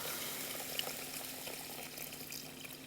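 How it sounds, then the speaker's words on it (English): Water poured into a pot of white rice for cooking, a steady continuous splashing trickle at moderate level, close by, running unbroken throughout with no talk. "So let's add some water to it, and I'll tell you when to stop."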